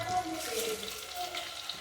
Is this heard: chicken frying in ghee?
yes